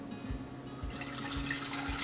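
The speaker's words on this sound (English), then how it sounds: "We're gonna pour the water in here." Water poured into a bowl while following a recipe at home, a steady close splashing pour that grows fuller after the first second, with no talk over it.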